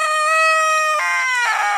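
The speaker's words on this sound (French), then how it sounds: "un coq et 3 poules" A rooster crows loudly and close, a long harmonic call that drops in pitch near the end, from a coop holding a rooster and three hens.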